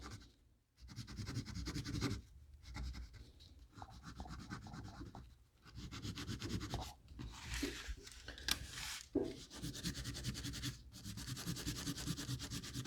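Steady rubbing and scratching as material is worked onto a wooden lipless crankbait fishing lure, close and quiet, continuous with brief pauses and no talking.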